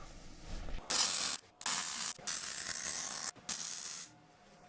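Steel parts being welded onto a woodstove: four bursts of steady, crackling hiss separated by short pauses, close and fairly loud, with no talking.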